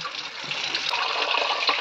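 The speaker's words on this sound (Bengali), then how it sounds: "এখন ধুয়ে নেবো কুলটা" Jujube fruit being rinsed in water for pickle-making, a steady close splashing and running-water wash with a brief clatter, continuous for under two seconds.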